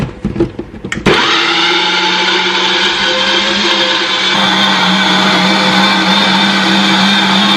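A blender whirs at a steady, loud pitch mixing celery and water, starting abruptly after a second of rustling and clinking and then running continuously without pause.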